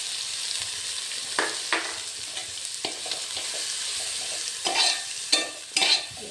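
Cauliflower masala fries in a pan with turmeric, garam masala and salt, a steady close sizzle broken by repeated scraping stirs of a spoon, several sharper strokes near the end.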